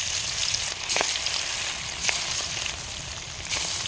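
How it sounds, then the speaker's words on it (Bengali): Large fish pieces fry in hot oil in a wok, producing a loud, continuous crackling sizzle with a few brief splutters and scrapes as the pieces settle, and no voices over it. "এখন মাছের টুকরোগুলো একে একে তেলের মধ্যে দিয়ে দিব"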